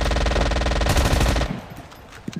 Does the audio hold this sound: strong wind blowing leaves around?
no